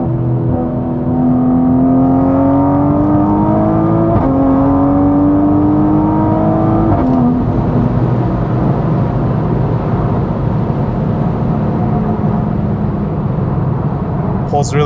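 A 700HP 2020 Toyota Supra accelerating hard through the gears, engine note climbing steeply with two quick shift breaks, then a steady loud cruising roar from inside the car.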